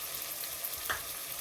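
Spices fry in a pan with turmeric and chili powder, giving a steady close sizzle with a faint scrape of stirring partway through, no voices.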